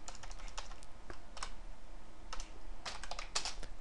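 Rapid bursts of keystrokes on a computer keyboard while entering C++ Qt code, close and clear, with brief pauses between flurries and no talking.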